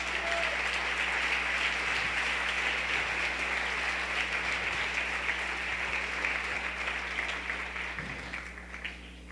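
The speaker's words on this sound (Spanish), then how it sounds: "Dele otro aplauso a nuestro Rey" A church congregation at a Spanish-language Sunday service applauds steadily, dense sustained clapping that slowly thins toward the end.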